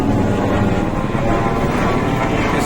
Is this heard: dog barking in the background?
no